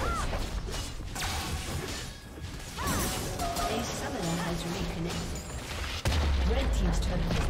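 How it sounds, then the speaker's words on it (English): A turret being destroyed in League of Legends, with crashing impacts and mechanical clanks amid dense game effects and music, ending in a heavy low boom, with an announcer voice speaking over the mix. "team's turret has been destroyed"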